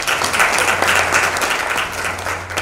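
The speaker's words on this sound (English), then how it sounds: "Give him a round of applause." Applause from an audience at a university talks event, a loud, dense, sustained wash of clapping that holds steady throughout.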